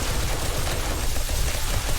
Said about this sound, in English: I got explosions again